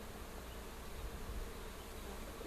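Honeybees, drones among them, buzzing around an open hive during a swarm-control inspection, a dense, steady, continuous hum heard close and fairly quiet, with no voices.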